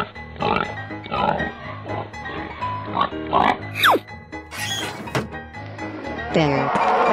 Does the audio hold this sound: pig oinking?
yes